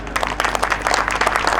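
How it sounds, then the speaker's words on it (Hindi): An audience claps together during a Hindu devotional katha honouring the goddess Tara Rani, a brief burst of dense, fairly close applause with no voices over it. "एक बार माँ के नाम को ताली बजाइए जरा"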